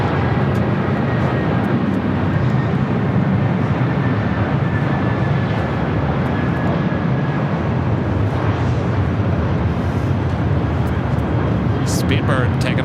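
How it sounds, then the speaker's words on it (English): A British Airways jet takes off from the south side at LAX, its engines a loud, continuous broadband roar that holds steady throughout. "Speedbird taking off there on the south side."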